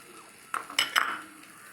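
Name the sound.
stirring potato mixture in a bowl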